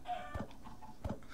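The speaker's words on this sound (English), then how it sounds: "Yeah. I hit a chicken." A chicken in a multiplayer video game lets out two short squawking clucks after being struck, clear and fairly close against a low background.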